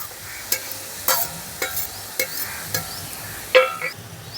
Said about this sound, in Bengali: আবার এই নিচ থেকে এইভাবেই নাড়তে হবে।